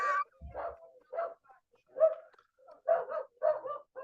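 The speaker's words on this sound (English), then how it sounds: "Next door, my dog's attacking postman for going next door." A pet dog barks at a postman next door, sending out a series of sharp, evenly spaced barks and yips from close by, moderately loud, with no talking between them.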